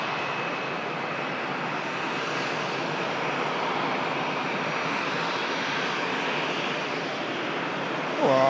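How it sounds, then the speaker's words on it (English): Aer Lingus Airbus A320 taxiing at Manchester Airport, a steady broadband jet engine roar held at an even level throughout, with a slight swell near the end. "we'll just capture the 320 of Aer Lingus, taxiing off"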